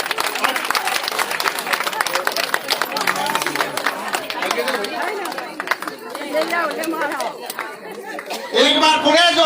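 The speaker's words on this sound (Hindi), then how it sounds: "जोरदार तालियों से माननीय एम जी का स्वागत करें" Crowd applause welcoming a guest at an International Women's Day gathering in India, dense clapping mixed with crowd chatter and a voice over a loudspeaker, building into louder clapping at the end.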